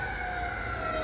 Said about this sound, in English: Yeah, it's a fire truck that just went by.